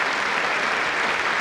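A Conservative party conference audience applauds John Major after his 'Back to Basics' speech, dense, steady clapping from a large hall filling the whole moment.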